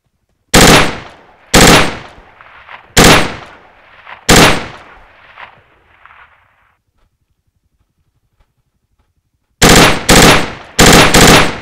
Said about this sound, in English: can I open fire? Ooh. Open fire, open fire.